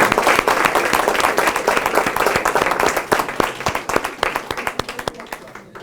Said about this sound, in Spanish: Vamos a darnos entonces un aplauso.